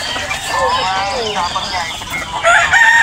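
A rooster crows, its drawn-out call rising and falling in the middle distance over a few seconds, with people talking nearby.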